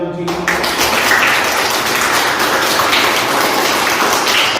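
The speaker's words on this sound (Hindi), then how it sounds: "चलो ताली बजाओ।" Schoolchildren clapping their hands together in a classroom, a dense burst of many small hands that starts abruptly and keeps going steadily and loudly throughout.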